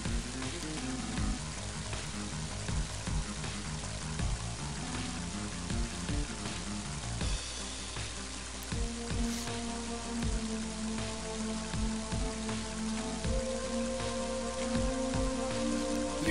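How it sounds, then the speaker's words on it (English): Rain in Mother 3, a constant dense patter of falling rain throughout, with game music notes and occasional low thuds layered over the steady hiss. "Oh wait, it's raining."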